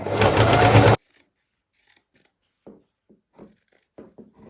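Sewing machine stitching bridal garment fabric runs in one loud, fast, continuous burst for about a second, then stops, leaving soft handling rustles and light taps.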